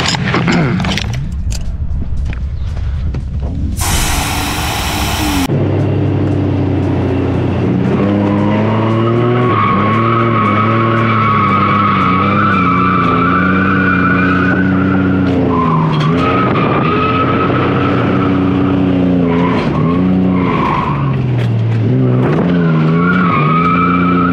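Tires on an Infiniti M30 squeal and skid continuously while drifting, a loud sustained howl over the engine that wavers in pitch, with a brief burst of broadband noise early on and no talking.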